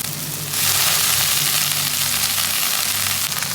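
Coriander leaves are dropped into a hot pan of sautéed tomato and stirred, producing a sudden loud burst of sizzling after a quieter start that then holds steady, close and with no talk.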